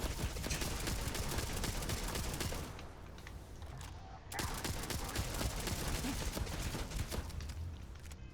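Sustained rapid gunfire from Starfield's Shattered Space expansion, a dense continuous volley of shots that briefly thins mid-way before resuming at full intensity, with no talk over it.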